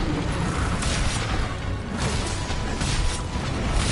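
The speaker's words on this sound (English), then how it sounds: "I'm going to stab you with explosions." Explosive knife attacks in the video game Monster Hunter World give a dense, continuous rumbling roar of blasts and impacts. The noise stays loud and steady throughout, with no talk over it.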